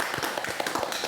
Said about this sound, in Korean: 우리 박수 한번 보내드리겠습니다.